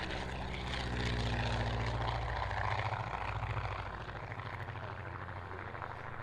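Propeller aircraft flying overhead, a loud continuous engine drone with a pulsing rotor-like throb that gradually shifts pitch as the plane passes.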